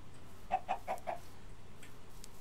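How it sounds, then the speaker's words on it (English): Video game chickens on a multiplayer server give a quick run of four clucks close by, then the scene falls back to a quiet background with no speech. "I'm just trying to hurt chickens"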